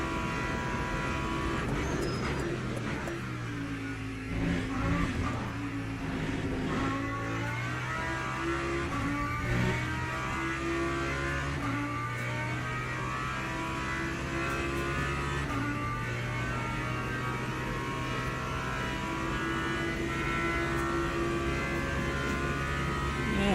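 A GT3 race car engine in the Le Mans Ultimate racing game, at Le Mans, drones loudly and continuously, its pitch climbing and dropping through repeated gear changes.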